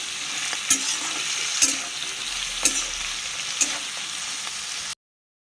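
Vegetables for a pulao fry lightly with salt in a pan. A constant close sizzle is punctuated by four evenly spaced scrapes of a stirring utensil, then it cuts off abruptly.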